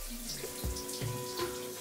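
Shower water runs in a video game, a steady close splashing hiss broken by a few soft thumps and clunks, with no voices.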